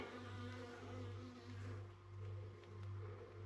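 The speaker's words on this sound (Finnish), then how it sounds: "Siellä näette kun mehiläinen syntyy." Honeybees buzzing inside a hive as new bees emerge from the comb, a steady continuous hum that swells and eases in slow waves, close and alone with no talk.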